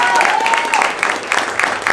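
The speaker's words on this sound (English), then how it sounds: "applause for my wife, Clementina Aragon." Audience at a Los Angeles candidate forum applauding in a sustained, fairly loud burst of clapping, with a voice talking over it.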